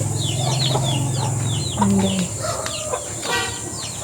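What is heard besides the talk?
chickens clucking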